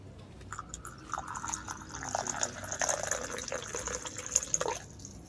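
Water poured from a kettle into a small tea cupping vessel, a soft, close trickle and splash building for a few seconds before tapering off, with faint clinks and no talking.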